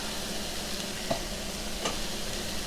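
Impossible burger meat cooks in a pan for a quesadilla, giving a steady broadband sizzle with a couple of brief stirring scrapes, close and even, with no talking.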